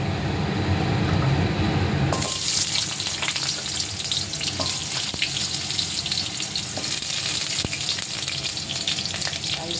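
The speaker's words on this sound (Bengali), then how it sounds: "প্রথমে আমি আলুটাকে ভেজে নেব।" Potatoes frying in hot oil in a wok: after about two seconds of quieter background, a loud, steady, hissing sizzle starts and continues without a break, with occasional faint scrapes and ticks on top.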